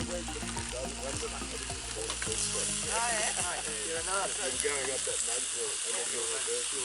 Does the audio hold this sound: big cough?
no